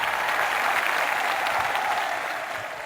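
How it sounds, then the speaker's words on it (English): An audience applauds a singing performance on a talent show, a dense burst of clapping that holds steady and then tapers slightly at the end. "Can we have a round of applause for him?"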